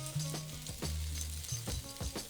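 Sesame oil sizzles in a wok for shrimp fried rice, a close, steady frying hiss with scraping stirs and low humming tones rising and falling underneath, no voices.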